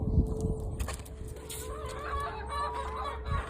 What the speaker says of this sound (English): So this is our strange little chicken.